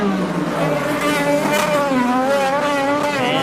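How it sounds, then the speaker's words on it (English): An IndyCar race car doing donuts at the St. Petersburg street circuit, engine revving and wavering continuously with tire squeal mixed in, loud and steady throughout without pause. "Look at that perfect right front tire locked up. Perfect donuts right there as well."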